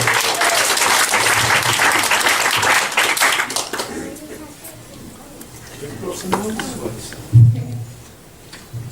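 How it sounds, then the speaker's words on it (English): Wedding guests clap for the bridesmaids during a best man's speech, a lively round of applause that fades after a few seconds into murmuring voices and light scattered claps. "Round of applause to the bridesmaids again, please."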